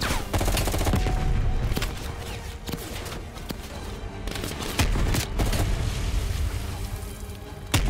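Rapid gunfire in the Call of Duty Black Ops Cold War video game, dense bursts of automatic shots and sharp cracks, loud and close and nearly continuous, with a few brief lulls.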